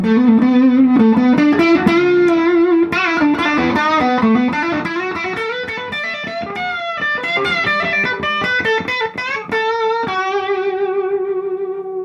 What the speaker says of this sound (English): I'm just playing a Les Paul standard here. I'm kind of using it for all of my overdrive stuff